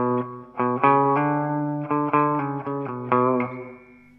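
A clean electric guitar plays a repeated riff of ringing notes without distortion, clear and close, picked in a steady rhythm with sustained tones.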